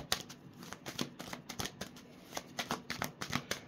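Tarot cards being shuffled by hand give off a quick, rhythmic run of crisp riffling flutters and soft slaps, close and fairly quiet, with no talking.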